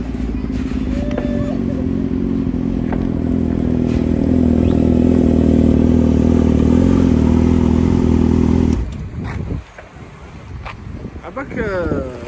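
A Yamaha R6 sport motorcycle idles and revs steadily and loudly, its engine drone holding for several seconds before cutting off, with wind buffeting and clatter afterward.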